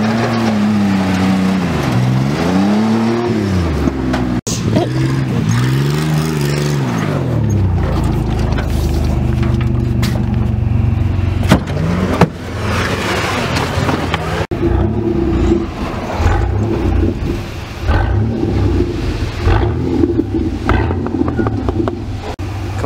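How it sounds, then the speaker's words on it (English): A Dodge truck and a Chevrolet ZR2 rev hard nearby, engines rising and falling in repeated surging pitch sweeps, then settling into a loud rough roar with rattles and clatter. "Freaking Dodge and the ZR2 ripping"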